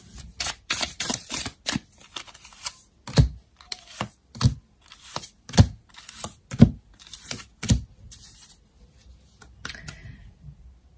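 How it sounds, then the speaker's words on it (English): Tarot cards laid out one after another on a table, giving a close series of crisp taps, slaps and light shuffling clicks in an irregular rhythm, with no talking. "Let's lay out some more cards, see what's up."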